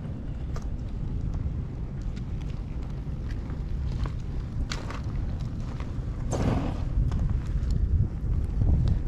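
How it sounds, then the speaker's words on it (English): Steady wind buffeting the microphone around a fire tornado burn barrel outdoors, a constant rushing roar with a stronger gust near the end and no talking. "there's a good breeze right here"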